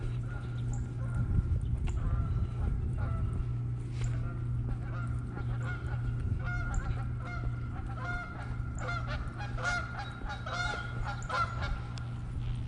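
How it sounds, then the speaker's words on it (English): Geese honk repeatedly at close range by a pond, a loose chorus of nasal calls over a steady low hum. "There are our geese friends again."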